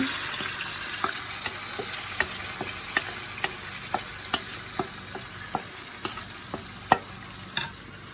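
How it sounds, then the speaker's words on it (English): Marinated chicken pieces coated in yogurt and crushed chilli sizzle in a hot pan for butter chicken, a steady crackling hiss punctuated by regular light taps of a stirring utensil. "And now our pan is heated up, and we're gonna put this chicken in."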